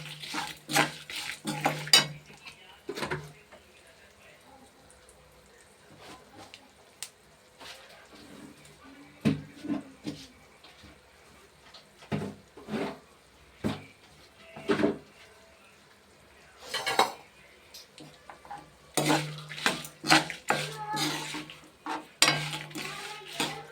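Sesame seeds roast in oil in a pan for gongura chutney, heard as scattered clinks and scrapes of a utensil against the pan with irregular stirring knocks over a quiet background.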